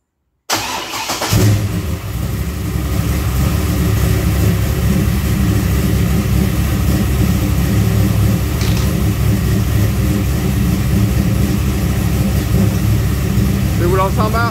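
A running car engine hums loud and steady after starting up, with its power steering pump riding the edge of the pulley. A single brief tick stands out partway through the drone.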